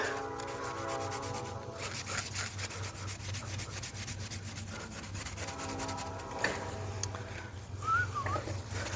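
A cloth wiping metal polish off a metal tank, making steady, continuous rubbing and scuffing strokes at close range with no pauses, while a faint bird-like whistle appears near the end.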